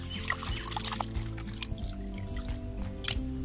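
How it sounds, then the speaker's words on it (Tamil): Water is poured over garfish being rinsed in a pot, producing soft squishy splashes and drips with scattered clinks, faint and close against a low background hum. "அதுக்கப்புறம் தண்ணியை ஊற்றி அலசிக்கிடணும்."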